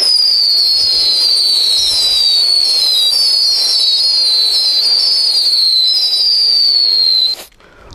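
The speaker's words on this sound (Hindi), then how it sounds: "देखते हैं म्यूजिकल माला कैसी चलती है" A musical garland firecracker goes off in a long, continuous crackling burst with a high, wavering whistle-like tone riding over it, loud and sustained for several seconds before cutting off.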